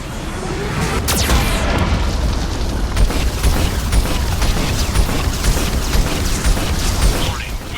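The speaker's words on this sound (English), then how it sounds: "Warning, Geth cannon is locking on our location." Heavy booming cannon fire from a Geth cannon in Mass Effect 2, a sustained loud roar of blasts and rumbling impacts with mechanical clatter, dense and continuous throughout with a sharp burst near the start.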